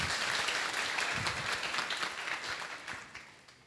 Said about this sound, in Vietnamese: dành một tràng pháo tay thật lớn để chương trình của chúng ta được chính thức bắt đầu